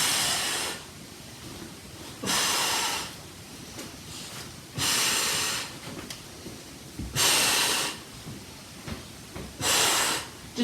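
Heavy breathing during a plank exercise comes as five loud, drawn-out breaths about two seconds apart, close and breathy, with quieter pauses between them.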